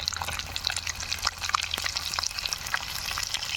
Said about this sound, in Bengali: ডিম সুন্দর ভাজা হয়ে গেছে